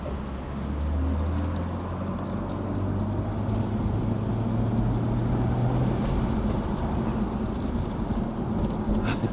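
A BMW E46 M3 drives through a tunnel, its engine a sustained low roar that swells and holds steady, with rushing wind noise and no talking.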